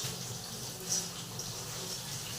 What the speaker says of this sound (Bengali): এবার আমি ধুয়ে নেব শাকগুলো সব।